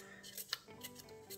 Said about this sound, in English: So I could just use scissors